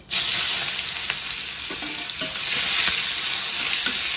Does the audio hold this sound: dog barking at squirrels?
no